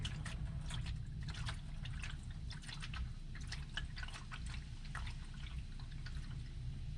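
Engine oil drains from a GMC Yukon XL Denali with a Duramax LM2 diesel, a soft, continuous pouring trickle with faint splashing into a pan, quiet and steady throughout.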